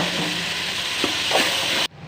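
Potato and cauliflower masala is stirred in a hot pan, a dense close sizzle with a couple of scraping strokes before it cuts off abruptly into quiet.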